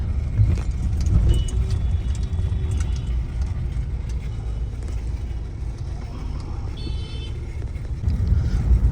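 Continuous road traffic on a busy street near Sinnar, cars rumbling past in a steady, dense wash of engine and tyre noise, fairly loud, with no talk.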